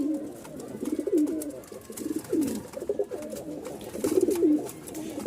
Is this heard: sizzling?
no